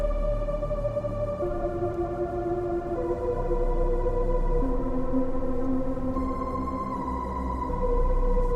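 Sustained tones from the Virus Astronomic synthesizer preset glide slowly between notes in an eerie, drifting melody over a low droning bass, with no voices.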